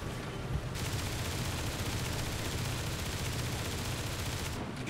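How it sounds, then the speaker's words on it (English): Tank-mounted machine guns in a video game rattle in a continuous dense stream of rapid fire, steady and unbroken for the whole stretch at moderate loudness. "they updated the mash horn, so now it has machine guns on it"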